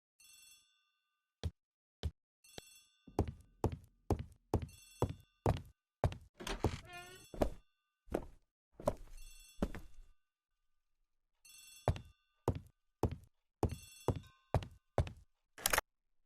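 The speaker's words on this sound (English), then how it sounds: "The telephone in the hall is ringing." Old-fashioned telephone bell ringing in a house hallway, repeated bursts of bright metallic trills spaced by pauses, interrupted by clunky thumps and footsteps, fairly faint and without speech.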